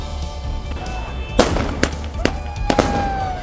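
Celebratory fireworks and firecrackers in Baramulla: several sharp, loud cracks and bangs at irregular intervals over a low background rumble, some with a faint rising whistle.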